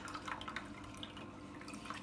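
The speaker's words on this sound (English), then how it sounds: "this water that is trickling down from the filter." Water trickles down from a hang-on back filter into a home aquarium, a faint continuous splashing with small irregular drips, heard close and alone.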